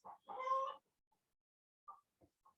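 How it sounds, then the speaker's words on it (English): A pet hen that lays eggs in a doghouse outside a window clucks, one drawn-out loud call followed by a few short, softer clucks with quiet gaps, heard from indoors without talk. "I wonder if you guys can hear my chicken."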